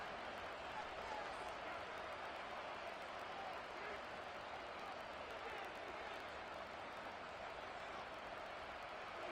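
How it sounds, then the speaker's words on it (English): Football stadium crowd in a Madden video game roaring steadily, a dense wash of cheering and noise that stays loud and constant throughout, with commentary voices under it. "This crowd turning up the decibel level."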